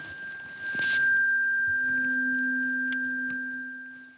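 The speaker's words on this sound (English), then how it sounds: "A tuning fork." A pure, steady tone rings out after a soft strike, sustaining evenly and fading slightly over a few seconds, with a lower hum joining it.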